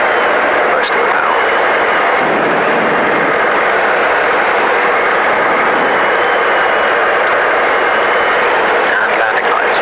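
Robin DR400-108 light aircraft engine running steadily during circuits at Headcorn, a continuous loud cabin drone throughout.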